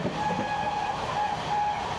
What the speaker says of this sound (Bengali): আর আমাদের ট্রেন এখন ক্রস করবে ফ্ল্যাট 110 আগরপাড়া